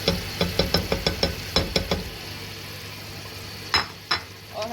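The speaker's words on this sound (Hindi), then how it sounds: "और हम इसकी अब भुनाई करेंगे।" Spices stirred and fried with mutton in a pan for aloo gosht: a rapid series of spoon scrapes and knocks against the pan over a soft sizzle, then a pause and two more stirs.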